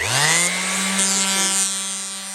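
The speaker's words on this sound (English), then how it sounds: "I'm using a Bauer variable speed sander, and if I turn it on, first I'm going to go full speed just so you can hear it" Bauer variable speed sander spinning up to full speed, a loud whine that rises quickly in pitch and then holds steady and close for about two seconds.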